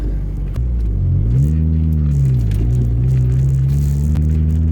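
A 1988 Toyota MR2 AW11 with worn synchronizers runs close by as it struggles into third gear, its engine rumble rising and bending in pitch as revs shift, steady and loud with no talking.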